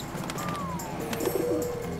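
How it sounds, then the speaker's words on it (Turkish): A cartoon bird gives a soft gliding coo followed by a lower warbling call, moderately loud over a quiet background. "Bu bir kuş."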